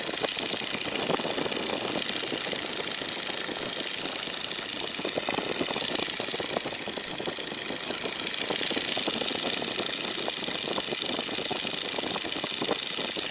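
Radial engine of a Boeing Stearman biplane droning steadily in flight while throttled for descent in the landing pattern, a loud, continuous rumble with wind rush and no talk.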